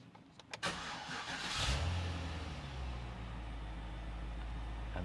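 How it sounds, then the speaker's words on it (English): A 2014 Cadillac CTS-V Wagon engine cranks briefly, then catches and fires up with a loud rev before settling into a steady, close, rumbling low idle. "we're going to give the car a start."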